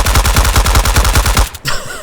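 Rapid bursts of automatic gunfire in the video game Deadside, loud close rattling shots in a fast steady rhythm for over a second, then a brief gap and a quieter trailing shot.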